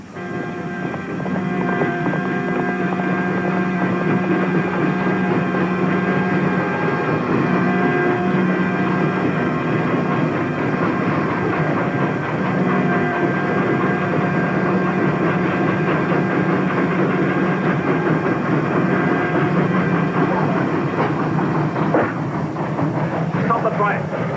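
A steady, loud rumbling drone of a moving train slowing down, with rattling and wind noise, continuous throughout without much change.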